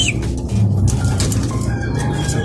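Pigeons kept for racing coo low and rhythmically nearby, with a few soft wing flutters and rustles mixed in, close and fairly loud.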